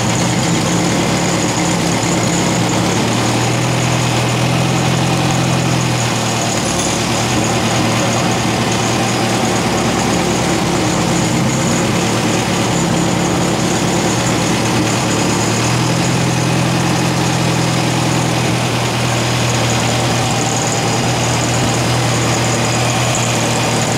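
An air-cooled VW engine fitted with a Solex H30/31 PICT carburetor runs continuously at a steady, loud idle, with a slight rise in revs partway through and no talking.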